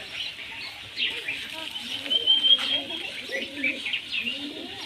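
Pigeons coo in soft, repeated low calls with a few brighter chirps, fairly close and steady, with faint flapping possible at one point; no speech is evident.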